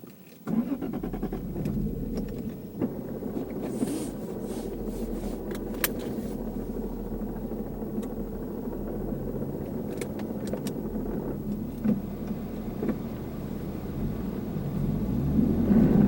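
A car with an R154 manual transmission swapped into a Lexus IS300 cranks and catches, then settles into a steady running hum; small clicks and jangles occur before the engine grows louder toward the end.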